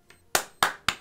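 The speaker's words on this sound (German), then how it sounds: "Applaus, Applaus, Applaus." Three sharp clap-like hits about a quarter second apart in Counter-Strike: Global Offensive, loud and close, each decaying quickly, after a faint softer tap.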